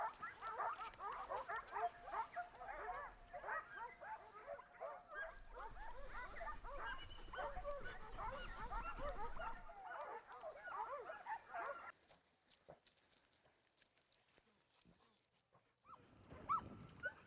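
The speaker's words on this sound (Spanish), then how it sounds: "Los perros han dado con la pareja y comienzan las ladras" Several hunting dogs bark and yip excitedly at a distance in overlapping bursts during a hunt in the Portuguese Alentejo, then fall mostly quiet before a final flurry of barking.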